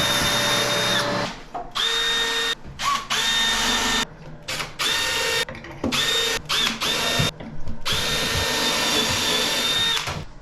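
A power drill bores holes in repeated bursts, each a loud high whine lasting a second or two, separated by short pauses and clicks as the bit is repositioned.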